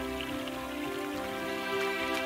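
Water trickling and splashing steadily in a freshly unblocked brook, a continuous bright pattering flow with no voices over it.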